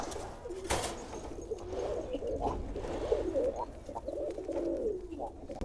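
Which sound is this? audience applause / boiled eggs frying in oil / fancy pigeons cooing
fancy pigeons cooing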